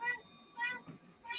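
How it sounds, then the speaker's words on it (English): A talkative house cat meows loudly three times in quick succession, close by, with short pauses between the calls. "Got a talking cat, very loud."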